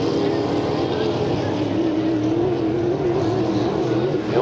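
H350 racing hydroplane boats at a Valleyfield race throttle up together, a loud steady engine roar with a rising whine near the end, under a commentator's voice.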